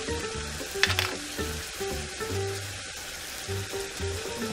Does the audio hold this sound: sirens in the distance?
no